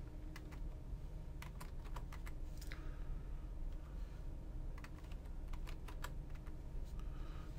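Keys tap on a computer keyboard as a password is entered, a quick irregular run of soft close clicks over a steady low room hum, with no voices.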